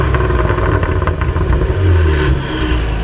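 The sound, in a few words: Cadillac CT4-V Blackwing engine revving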